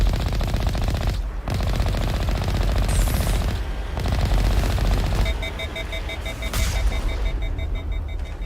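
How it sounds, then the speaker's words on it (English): A gun in the Mass Effect Legendary Edition video game fires continuously in rapid automatic bursts until it overheats, ending in a high beeping warning tone over dense combat noise. "Oh, my gun overheated."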